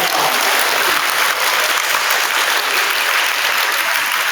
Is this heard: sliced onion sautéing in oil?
no